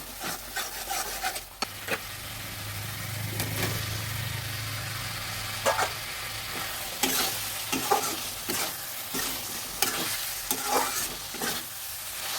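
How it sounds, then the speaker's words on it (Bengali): Potatoes fry in a sputtering fish curry masala for a Bengali sarpunti fish curry, a soft sizzle running under repeated scraping stirs of a spatula against the pan, close and fairly quiet. "মশলাটা আর একটু ভেজে এবার আলুগুলো দিয়ে দেব"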